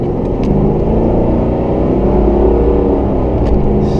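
Strong, steady engine and exhaust roar from a 1994 Ford Mustang GT as it accelerates on a main road, heard from inside the car, loud and continuous with no talk.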